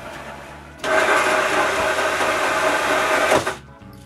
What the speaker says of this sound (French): Le dernier trou à percer, c'est un gros trou au centre du dernier cercle.